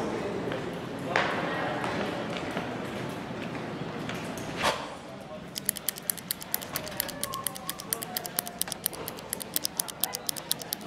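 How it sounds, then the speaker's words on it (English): A pen clicks again and again in a short film, a fast run of sharp clicks that grows louder in the second half, following a stretch of muffled background noise with a few louder thumps. "All she could hear was that infernal clicking."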